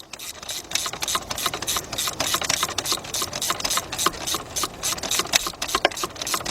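A ratchet turns a spark plug into the 3.5 engine of a 2012 Ford F-150 FX2 pickup, a fairly quiet, rapid, even string of clicking pawl strokes held close with no pause.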